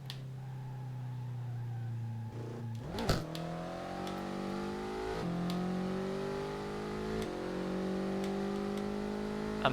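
A car engine in a racing video game, played with a gamepad, revs and climbs steadily through the gears with a whining, rising tone, loud and continuous, with brief shifts and no talking.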